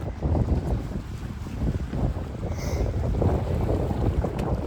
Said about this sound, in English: A little bit more windy today than I'd like.